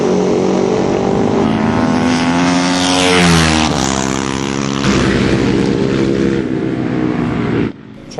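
A single-cylinder Supermono 450 racing motorcycle roars on a track during practice, loud and close, its engine note rising and falling through gear changes before cutting off abruptly near the end.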